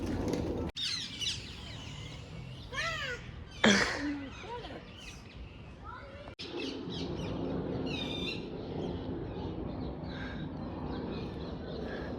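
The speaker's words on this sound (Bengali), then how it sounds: "ওদের টিয়া পাখি ডাকছে এখানে উড়েও যাচ্ছে মাঝে মাঝে শুনতে পাওয়া যাচ্ছে" Shrill calls of a flock of parakeets flying over in London ring out intermittently, some in quick rising bursts, over a low background rumble.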